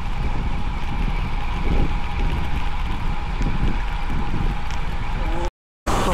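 Wind buffets the microphone steadily during a humid bicycle ride with a group, a continuous low rushing roar with small gusts, briefly cutting out near the end.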